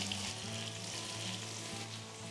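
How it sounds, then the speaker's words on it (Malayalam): Whole cinnamon, bay leaf, peppercorns and cardamom fry with onion in coconut oil, a close, continuous sizzle with a low steady hum underneath, no voices. "ഇത് ശരിക്കും വെളിച്ചെണ്ണയിൽ മൂപ്പിക്കുക അത് മൂത്ത് വന്നതിന് ശേഷം കുറച്ച് ഒനിയൻ"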